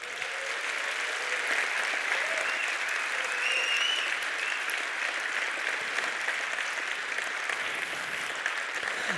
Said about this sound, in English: give these guys a huge applause.